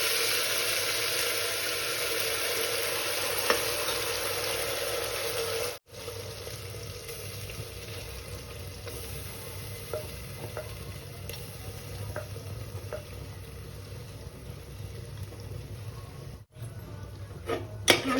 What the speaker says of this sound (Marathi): आता त्यात आपण ही तयार केलेली पेस्ट घालूया